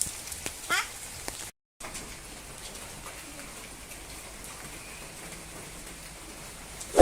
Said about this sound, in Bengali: সকাল সকালে বৃষ্টি,